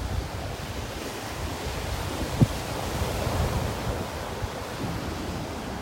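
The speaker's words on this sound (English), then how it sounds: "when a big gust of wind comes along" Wind buffets a microphone on a sunset beach in North Naples, Florida, with a broad rushing roar of surf and gusts, steady throughout with one brief thump.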